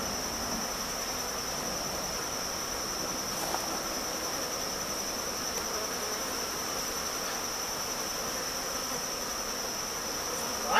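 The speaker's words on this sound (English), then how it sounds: "A lot of bees in here." Honeybees in an opened hive box humming in a dense, steady, continuous buzz at close range, with no talk over it.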